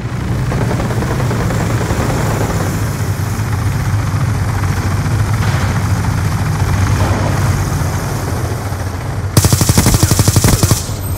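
Automatic weapon fire in Call of Duty: Black Ops 2 multiplayer on PS3 rattles over a dense, constant background of battle noise and engine drone, ending in a loud, close, rapid burst near the end.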